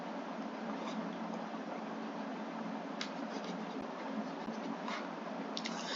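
Marker or pen writing out a math competition solution on a board, a steady scratchy stroking sound with a few sharper taps, fairly close and continuous without talk.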